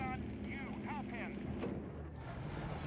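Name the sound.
vehicle engines running in the video game Company of Heroes 3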